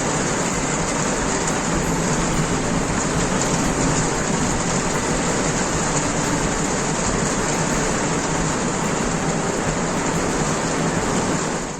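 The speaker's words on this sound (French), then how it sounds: "je vous laisse apprécier le bel effet de la pluie sur le toit du camping-car" Steady, dense rain drumming on a camper van roof, loud and continuous throughout with no voices.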